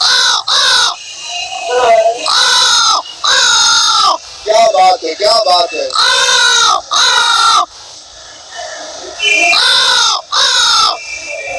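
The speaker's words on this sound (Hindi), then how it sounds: "देखा हमने पूरा का पूरा कौवा का हुजूम आ गया।" A large flock of crows gives loud, harsh caws in quick repeated bursts, near and crowded together, while a voice breaks in between the calls.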